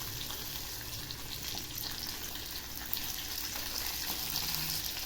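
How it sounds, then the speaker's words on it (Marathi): Pomfret fish frying in a pan of hot oil, a soft, steady crackle and hiss at close range that continues without pause and brightens slightly near the end, with no talk over it. "आता तळून घेते मच्छी"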